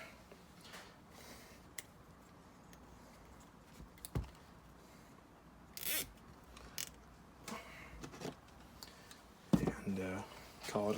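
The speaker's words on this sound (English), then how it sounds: "Throw a zip tie on it." A zip tie is cinched over a vacuum cap near the carburetor of a 1984–1987 Honda Civic. Faint handling clicks and scrapes come first, then a short, buzzy ratcheting zip near the end, close and quiet.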